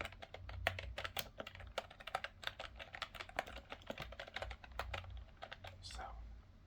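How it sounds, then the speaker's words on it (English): Keys clatter fast and irregularly on a cheap, old budget computer keyboard, with dense crisp clicks and occasional louder thumps from a loud space bar, close up and steady throughout. "Here's the typing."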